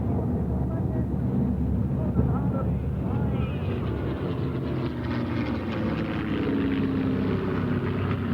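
A propeller airplane's engine drones steadily through aerobatic manoeuvres at an air show, loud and continuous with a broad rumble that never lets up.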